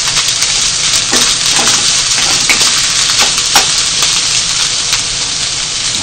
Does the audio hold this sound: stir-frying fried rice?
yes